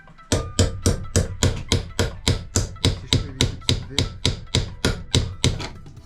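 A hammer strikes the seized engine of a Peugeot 103 moped in a steady run of about twenty sharp, evenly spaced metallic taps, close and loud, with no talk over it.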